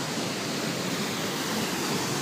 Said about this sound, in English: Well, this is Cascade River.